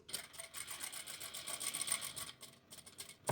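A sewing machine stitches fabric with a backstitch, its needle running in a fast, steady mechanical rattle that pauses briefly near the end, close and moderately quiet, with no voices.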